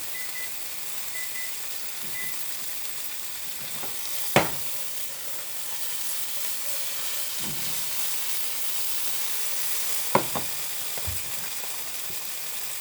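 Butter sizzles in a hot pan of seared scallops with a steady, close, soft hiss. Occasional clinks and scrapes of utensils stand out now and then.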